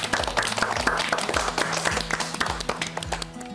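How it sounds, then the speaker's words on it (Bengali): An audience applauds at a televised Eid quiz show, with dense, lively clapping from many hands that runs the whole time before thinning near the end. "তাহলে আবার একটা হাততালি"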